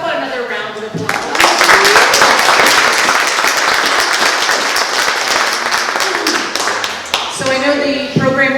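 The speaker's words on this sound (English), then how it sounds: "How about another round of applause?" An audience at a local historical society talk on roadside chapels breaks into loud, sustained clapping that starts abruptly after someone speaks, holds for about six seconds, then fades as his voice returns.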